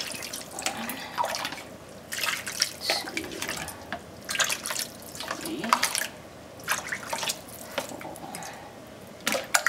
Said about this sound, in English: I'm going to add some cups of water to this.